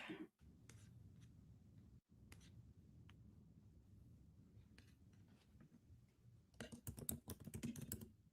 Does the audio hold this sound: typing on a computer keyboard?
yes